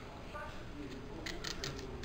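A knife trims the tip off a star fruit (carambola) in a home kitchen, giving a few soft, crisp cutting snips close by against a very quiet background.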